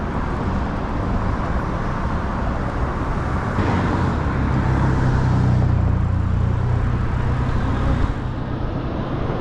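Road traffic idles and rolls past at a stoplight while a rider waits on an electric bike, a steady, fairly loud wash of engine and tire noise with a low rumble swelling midway.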